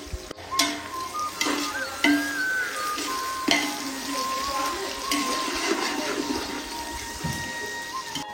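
Onions sizzling in ghee for mutton biryani, a continuous close hiss with scattered crackles and occasional utensil knocks, persisting steadily throughout.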